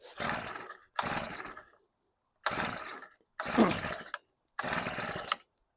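Small engine on a Honda WX-10 water transfer pump, being worked with the choke, runs in five rough bursts of under a second each. Each burst cuts off abruptly, with short silences between them.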